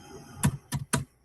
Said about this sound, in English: I'm just typing back into the chat here.